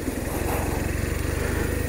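A BMW RT motorcycle engine drones steadily while riding, a constant, close throbbing hum with a fast pulsing rhythm and broad road and wind noise.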